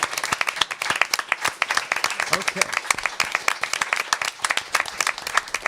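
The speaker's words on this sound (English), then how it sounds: "Let's give these people a real big round of applause" An audience at a live webcast event claps enthusiastically, a dense burst of applause that keeps going throughout, with a voice briefly speaking over it.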